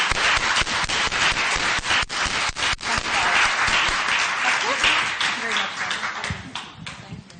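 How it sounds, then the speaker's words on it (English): An audience at a 2015 Irish design event applauds the people behind it, a full, busy clatter of many hands close by, steady for several seconds before easing slightly toward the end. "I think a round of applause is really"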